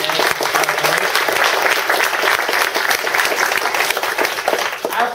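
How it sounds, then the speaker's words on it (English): Audience applause at a tech conference talk on MySQL-to-Cassandra data migration, a sustained, even round of clapping from a roomful of people, close and dense throughout. "first I just want to give a great big round of applause"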